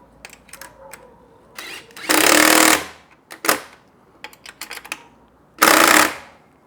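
A power tool with an 8mm socket runs in two short, loud bursts on a bolt of a 2024 Triumph Bonneville T120 handlebar, with light clicks and taps of tools in between, close up.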